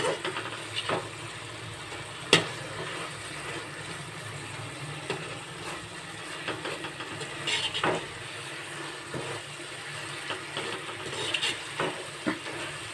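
Carrot barfi mixture made with grated carrot is stirred in a pan during cooking, giving quiet, irregular scrapes and soft sizzling with a few sharper clacks of the spoon against the pan.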